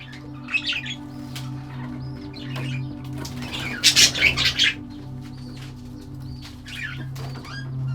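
Budgies in a breeding box give scattered chirps and squawks with a brief loud burst of wing flapping near the middle, close by over a steady low hum.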